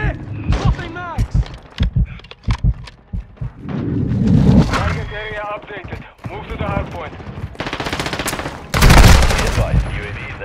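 Bursts of automatic gunfire and rapid shots in Call of Duty Modern Warfare II multiplayer, close and loud, mixed with in-game voice callouts and other combat noise.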